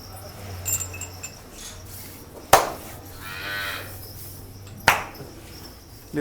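A cow at a village livestock sale in Punjab gives a low, drawn-out moo between two sharp knocking thuds, with faint insect chirring in the background.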